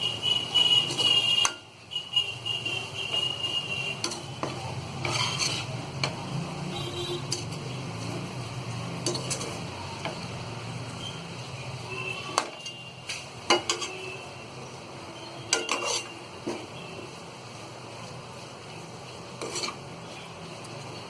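Dry arbi masala is turned over with salt in a pan, giving a soft, low sizzle with intermittent scrapes and light clinks of a spoon against the pan, fairly quiet and unhurried.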